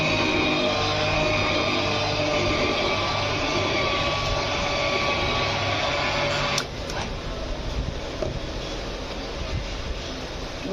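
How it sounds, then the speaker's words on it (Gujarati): Blender whirring through pressure-cooked dal at a steady, loud roar with no talk, the pitch and level dropping slightly about two-thirds through as the lentils loosen. "હવે એને બ્લેન્ડરથી બ્લેન્ડ કરી લઈશું."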